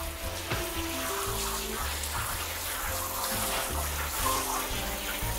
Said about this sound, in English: We'll rinse it down.